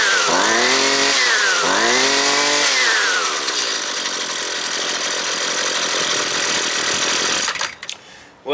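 A string trimmer's small two-stroke engine runs on half choke while still cold, revving up and down twice in quick swells before settling into a loud, steady buzzing drone that cuts off near the end.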